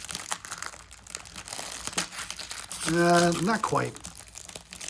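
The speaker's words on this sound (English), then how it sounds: "We can rip it clean right down the seam." A 1990 Topps football card wax pack is torn open along its seam, close-up crinkling and tearing of the wrapper in short bursts, with a voice speaking briefly midway.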